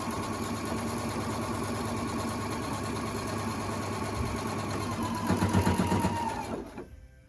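A sewing machine runs steadily, stitching across the top of a fabric mask, with a fast mechanical whir and needle chatter that holds close and loud, speeds up briefly, then stops.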